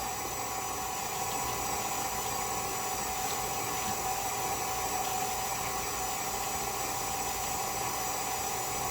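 An electric mixer whirs steadily while mixing cookie dough on a kitchen counter, a continuous mid-pitched motor hum with a gritty churning texture, close and unbroken, with no talking.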